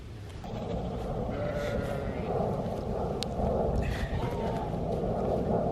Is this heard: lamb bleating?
yes